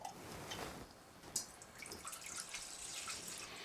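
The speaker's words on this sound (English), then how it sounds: "You want to take your large mixing bowl and you want to combine your apricot nectar." Apricot nectar is poured into a large mixing bowl, a faint, steady liquid trickle and splash lasting a few seconds, with a small clink near the middle and no talking.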